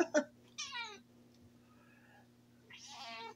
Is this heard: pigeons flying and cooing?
no